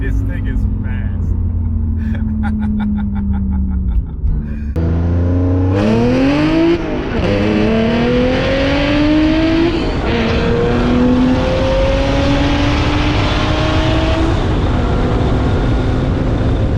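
A twin-screw supercharged BMW E46 330i accelerates hard through the gears, engine pitch sweeping upward in repeated climbing pulls with brief drops at each shift, loud and close from inside the car, with a voice exclaiming over it.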